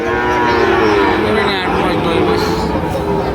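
Sahiwal bull calves at a busy livestock market, a loud drawn-out moo close by over a low murmur of crowd chatter.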